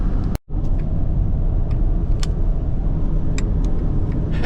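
A car cruising on a highway between New Mexico and Texas, heard from inside as a steady, loud road rumble and engine drone, with a brief dropout near the start and faint clicks.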